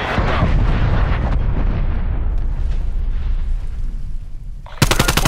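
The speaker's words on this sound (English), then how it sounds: "Artillery" Heavy artillery strikes and explosions in Black Ops Cold War on the Moscow Hardpoint map, a loud continuous barrage of rumbling blasts and gunfire that tapers off before an abrupt harsh burst at the end.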